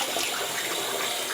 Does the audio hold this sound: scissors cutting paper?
no